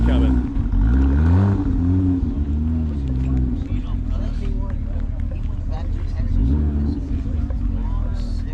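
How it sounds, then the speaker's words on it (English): Porsche cars roll past at a Supercar Sunday meet, engines rumbling and rising as they accelerate by, loud and close, with people talking over the traffic throughout. "Cars keep coming."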